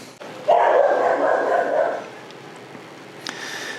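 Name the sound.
neighbor's dog barking outside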